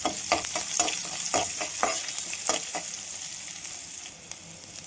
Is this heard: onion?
yes